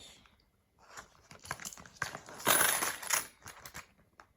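Euro coins handled and counted out, a run of small metallic clinks and taps that builds to a busier clatter in the middle, close and fairly quiet with no talking.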